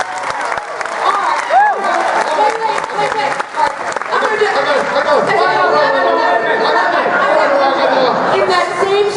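At a Star Trek convention in Las Vegas, a crowd breaks into applause and cheering mixed with lively chatter and some laughter, holding a strong, dense level that builds toward the end.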